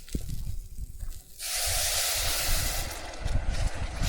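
One cup of water with beef jerky in a pot on an induction cooker at a camp setup, heating toward a boil: a loud, steady hiss bursts in after a short, quieter start and continues over low rumbling knocks.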